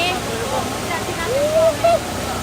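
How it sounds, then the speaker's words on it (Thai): A steady roar of rushing water from a waterfall in Taiwan fills the scene, with a short whistle-like tone rising briefly over it. "น้ำตกสวย"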